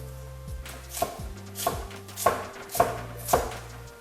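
A knife chops through an onion on a cutting board, making five sharp, evenly spaced thunks close by with no talking; a low steady hum runs underneath.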